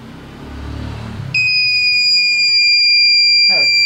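A homemade pinpointer metal detector circuit's buzzer kicks in at power-up with a loud, steady, piercing high-pitched tone that holds continuously after a brief stretch of low background noise.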